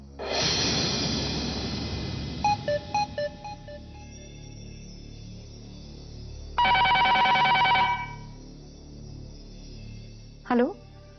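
A telephone in a busy household rings unanswered, giving a series of electronic bursts and short beeping tones, with a long pulsing ring near the end and a brief chirp after it. No one speaks.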